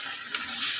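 White chickpea curry fries in hot oil with a bright, steady sizzle and faint stirring scrapes, close up and alone for just under a second.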